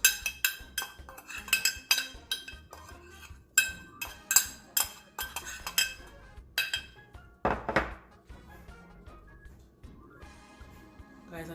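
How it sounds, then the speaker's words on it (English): Dry jerk seasonings stirred together in a bowl, a run of sharp clinking taps and scrapes of a utensil against the dish, close, with a brief louder clatter partway through and a voice faintly in the background. "Okay guys, so I'm gonna mix up all of my seasons"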